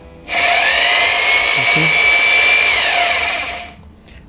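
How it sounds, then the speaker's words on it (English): A rotary hammer in drilling mode whirs loudly at a steady high pitch for a few seconds, then winds down; a voice speaks briefly under it. "let's start this machine and see how it works. So we have set the machine on drilling"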